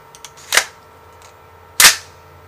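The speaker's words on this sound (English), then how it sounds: "So we got 3 shots right now of the Blazer." Two sharp gunshots fired with Blazer ammunition, fairly close, separated by just over a second of quiet, each with a brief ringing tail.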